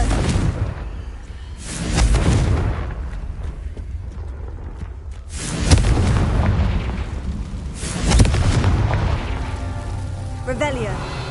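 Confringo spell blasts in a Hogwarts wizarding video game, loud booming explosions bursting out about every three seconds with crackling debris and rumbling tails, while a voice talks over the action.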